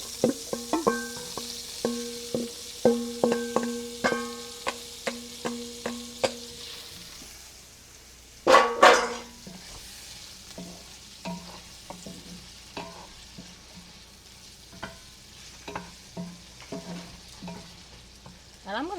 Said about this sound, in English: I'm gonna let these saute for about 3 minutes